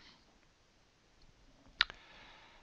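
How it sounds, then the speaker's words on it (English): A single sharp computer mouse click, close and brief, stands against faint room hiss, with no speech. "click on Upload"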